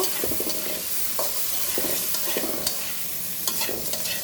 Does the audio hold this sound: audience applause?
no